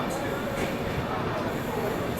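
A steady, rumbling roar of the Maharashtra Sampark Kranti Express train arriving at Bandra, continuous and broadband with no distinct clacks, filling the whole short moment.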